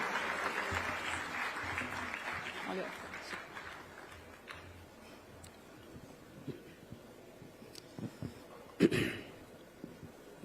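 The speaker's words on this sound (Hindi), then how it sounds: "जोरदार तालियों के साथ स्वागत कीजिए honourable chief minister Punjab Shri भगवान सिंह" An audience at a TiECon Chandigarh startup event applauds to welcome the Punjab chief minister, with clapping fairly strong at first and then fading to scattered claps, footsteps and faint voices.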